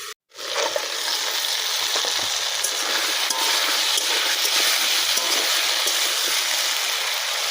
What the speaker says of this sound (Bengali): 2-3 মিনিট আমি এই কচুগুলো ভাজা করে নিয়েছি।